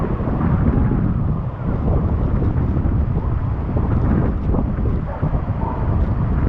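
Heavy wind at the bottom of a waterfall blasts steadily against the mic, producing a dense, loud rumbling roar that barely lets up for the whole stretch.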